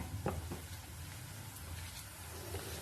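Onions frying in a pan with garlic, green chili and ginger paste nearby, a faint steady sizzle with a few soft stirring scrapes, no voices.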